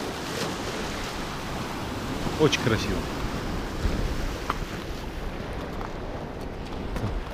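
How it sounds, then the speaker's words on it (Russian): Stormy Barents Sea surf at Teriberka in April, a steady heavy roar of waves with wind buffeting the microphone, broken by a brief spoken remark. "солнышко светит, море бушует"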